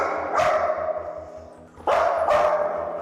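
A dog with aggressive behaviour barks in three sharp outbursts, loud and close, over a steady low buzzing hum with a regular pulsing pattern.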